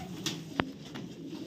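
A pigeon being caught gives a short, close coo and a sharp flutter or wing snap among soft rustling and quiet background hum.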